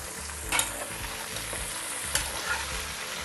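Vegetables and paneer sizzle in a pot for a Hyderabad vegetable dum biryani, a steady close frying hiss broken by a couple of sharp scraping stirs of a spoon.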